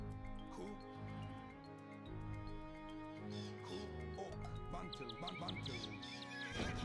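Horses in Age of Empires II give several high whinnies and snorts over a continuous game music and ambience bed, with hoof clip-clops near the end.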